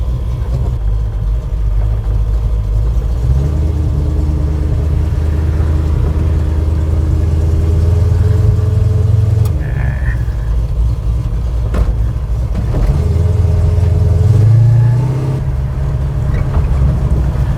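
A restored XL Ford Falcon hardtop rumbles along with a deep, loud engine drone, swelling in a couple of rev surges as it cruises, no talk over it.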